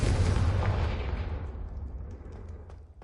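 A Confringo fire spell detonating in the game Hogwarts Legacy, a single loud booming blast up close that rolls off into a fading rumble over a few seconds.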